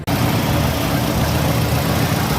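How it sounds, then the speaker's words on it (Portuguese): A Ford Ka engine idles steadily right after an oil change, a loud, even rumble that runs unbroken with no talk over it. "Óleo trocado, motor funcionando."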